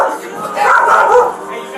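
A dog barks loudly and close during a tense police arrest outdoors, a short cluster of yelping barks mixed with shouting voices.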